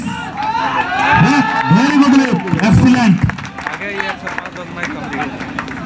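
Crowd at a powerlifting championship cheering, whooping and clapping loudly, with shouts and applause rising together and then settling into a continuing clatter of claps under voices.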